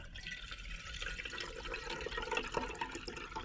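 Hot liquid streams from a pot through a coffee stick spout, a close, continuous splashing pour with small gurgles and drips throughout, and no one speaking.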